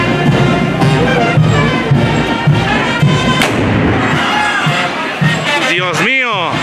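A loud shotgun blast cracks out amid a noisy crowd at a Chinelos fair in Tepetlixpa, with excited voices talking and shouting around it.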